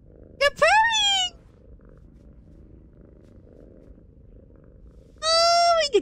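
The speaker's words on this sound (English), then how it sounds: "You're purring!" A cat in The Evil Within video game purrs softly and low through a quiet stretch, framed by two short, loud, high vocal cries at the start and end.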